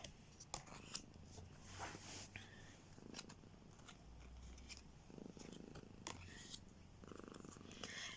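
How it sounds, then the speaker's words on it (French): A cat purrs softly up close in a low rumbling rhythm, mixed with rustling and scratchy handling noises. "Et puis elle ronronne, elle ronronne."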